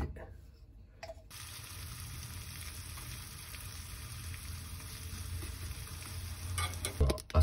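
Hamburger patties frying in a little olive oil in a pan, a steady soft sizzle that begins abruptly after a quiet second and runs on, with a few clatters near the end.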